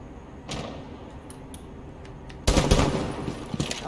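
Rainbow Six Siege gunplay, a few muffled scattered shots followed by a loud sustained burst of rapid automatic fire, heard over constant game ambience.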